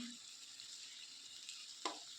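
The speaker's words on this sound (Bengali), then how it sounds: "তো আমি এখানে ভাজা বসিয়ে দিয়েছি। দেখো আমার 3টা পকোড়া হয়েও গেছে।" Oil sizzles steadily as coriander leaf pakora batter deep-fries, a soft continuous crackling hiss with a brief clink near the end.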